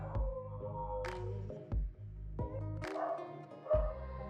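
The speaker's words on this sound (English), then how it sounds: "The symphony of dogs never ends." Dogs barking in a series of loud, fairly close barks and yips, several overlapping bursts with short gaps, heard alone without talking.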